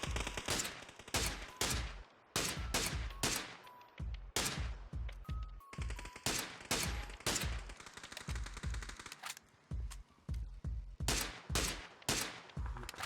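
SLR rifle fire in the video game PUBG, heard as sharp single shots in quick bursts with short pauses between them, loud and close throughout, with no talk.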